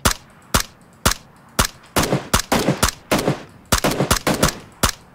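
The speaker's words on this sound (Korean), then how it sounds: "바로 앞에서 총소리 났는데?" Gunfire in the video game PUBG: Battlegrounds rings out as sharp, loud reports, starting with single spaced shots and then quickening into clustered bursts and rapid pairs, with no voices.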